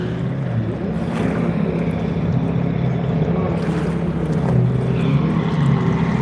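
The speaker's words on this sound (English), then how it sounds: "the dude on a jet ski is just out here doing circles" A jet ski runs in circles on open water, its motor droning steadily at a moderate distance with a faint swelling and fading as it turns, along with wind and lapping water.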